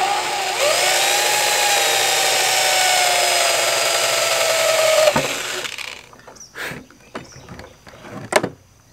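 A power drill bores a 3/16 test hole down the center of a wooden 1987 Powell Peralta Caballero skateboard deck, a steady whine for about five seconds that stops abruptly, followed by a few sharp handling knocks.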